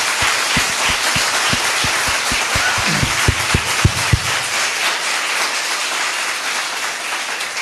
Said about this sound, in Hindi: और आप जो ताली पीट रहे हो वो मेरे लिए थोड़ी पीट रहे हो